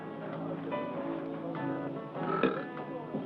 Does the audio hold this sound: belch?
yes